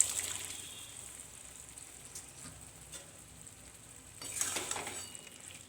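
Boiled chickpeas stirred into mutton keema frying in its released oil, a soft continuous sizzle with faint scraping, then a louder burst of sizzling and stirring near the end.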